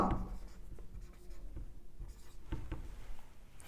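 Chalk or marker scratching on a classroom board during a chemistry lecture, a steady run of short scraping strokes close to the microphone, with no talking over it.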